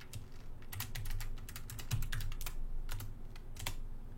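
Rapid clicking keystrokes on a computer keyboard type out a short command, irregular taps in quick bursts heard close up and alone.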